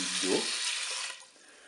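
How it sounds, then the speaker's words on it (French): Broth and white wine pour into a Cookeo multicooker pot, a steady splashing, hissing stream that runs close and loud for about a second before tapering off. "je vais verser tout de suite donc, mon bouillon"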